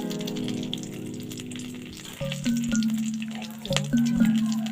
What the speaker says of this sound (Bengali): তেল দিয়ে দিয়েছি এবার তেজপাতা শুকনো লঙ্কা ও গোটা গরম মশলা দিয়ে দিচ্ছি